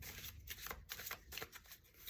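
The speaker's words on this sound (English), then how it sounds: "Now you can overhand shuffle," Tarot and oracle cards being overhand shuffled, giving a run of soft, papery riffling slaps in an irregular rhythm, quiet and close with no talking.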